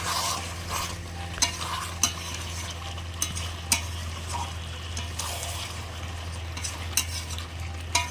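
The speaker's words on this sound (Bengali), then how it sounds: "চাপা দিয়ে দিয়ে চিকেনটা আমি ভালোভাবে কষে নেব।" Chicken being stirred and fried in a pan, a steady low sizzle broken by regular sharp scrapes and knocks of the spatula against the metal, close and clear with no talking.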